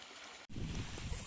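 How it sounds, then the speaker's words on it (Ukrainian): Small mountain waterfall stream in the Carpathians, a steady close rush of splashing water that fills the clip after a brief near-silent gap. "Ось місце біля такого водоспадика."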